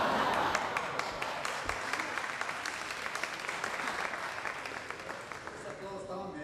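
Thin audience applause at a theater performance, a steady patter of scattered claps fading slightly toward the end as voices begin to speak.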